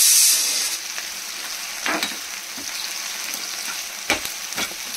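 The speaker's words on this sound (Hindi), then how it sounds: "मैंने प्याज डाल दिए हैं फ्राई करने के लिए, मेरे प्याज फ्राई हो जाएंगे।" Onions frying in oil in a pan for mutton rogan josh, a loud continuous sizzle with occasional scraping stirs, close up and without talking.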